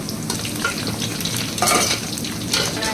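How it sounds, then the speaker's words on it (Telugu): Chicken 65 deep-fries in hot oil, a dense close crackling sizzle that bubbles continuously with occasional louder surges. "ఇవన్నీ డీప్ ఫ్రై చేసి చూపిస్తాను మీకు"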